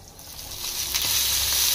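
Oil sizzles in a pan on a gas stove with a bright, steady hiss that swells over a couple of seconds, close and fairly loud, with no talking.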